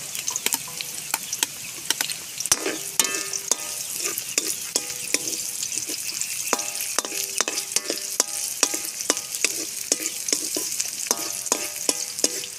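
Onions sizzle steadily in a pan while being stirred, with frequent sharp spatula scrapes and clicks against the metal throughout, close and loud, no one speaking.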